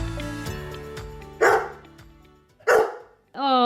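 A dog barks sharply twice and whimpers in a room, loud close bursts separated by quieter tonal ringing.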